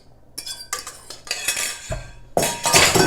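Pancake-like batter mixed in a bowl with a utensil, irregular clinks and scraping strokes against the bowl's side, close and fairly loud, in short bursts with brief pauses and no talking.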